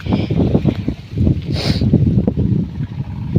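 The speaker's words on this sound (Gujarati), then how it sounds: "પવન બહુ છે" Strong wind buffets the microphone in rough, rumbling gusts that rise and fall continuously, loud and close.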